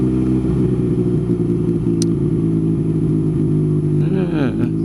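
A car on a quiet rural road near a covered bridge makes a U-turn, its engine humming steadily and loudly close by, with a brief higher whine near the end.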